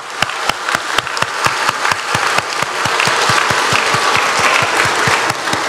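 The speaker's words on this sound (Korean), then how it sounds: "우리 힘차게 박수하겠습니다" A church congregation claps together during a Sunday service in a loud, steady burst, individual sharp claps rising into continuous applause before easing slightly at the end.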